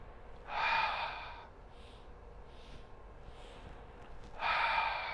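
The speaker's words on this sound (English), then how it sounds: "Inhale, inhale, inhale, and then exhale." A breathing exercise, two long audible breaths close to the mic, one at the start and one at the end, with a few fainter breaths in between over quiet room tone.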